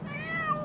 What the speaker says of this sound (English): My kitty is stuck in a tree.